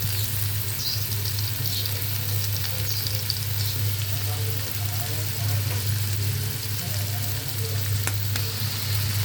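Onions fry in a pan in the oil given off by pangas fish, with no extra oil added, a steady close sizzle with faint crackles and an occasional stir, running continuously without talk.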